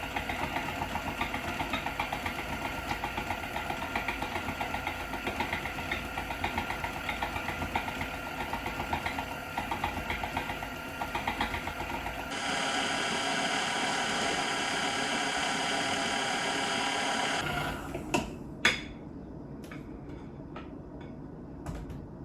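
A 1957 Sunbeam Mixmaster electric mixer beats cake batter with a steady, buzzing motor whir and a rhythmic beater pulse. The tone shifts partway through, then the motor stops and a few clunks follow.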